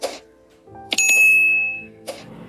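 A single bright notification bell dings and rings out for about a second before fading, with soft whooshing swishes just before and after it.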